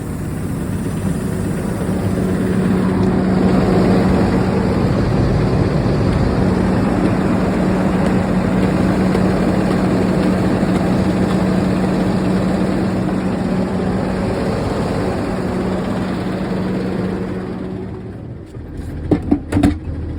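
A school bus engine runs at high idle with the speed control raising the RPMs, giving a steady, loud, low diesel drone that holds for most of the stretch before fading near the end, followed by a few short knocks.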